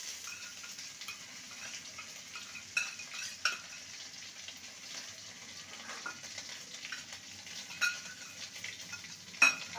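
Ginger paste frying in a pan, a faint, even sizzle with a few sharper scrapes and taps of a stirring spoon, quiet and close, no speech.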